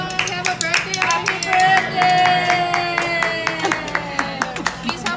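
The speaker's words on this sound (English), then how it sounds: "Please help us clap." People clap in quick rhythmic bursts at a family birthday party indoors, close and fairly loud, with a few voices talking between and over the claps.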